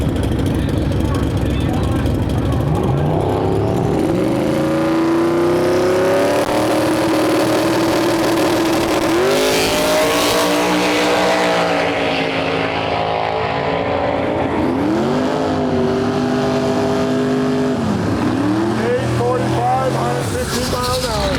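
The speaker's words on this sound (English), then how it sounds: "Let's see what Kolby can put down here for his first official run at Sick Week" A 1,600 hp twin-turbo Mustang race car makes a run at a drag event, its engine roaring and surging through repeated rising pitch sweeps like gear changes, heard loud throughout with voices talking over it.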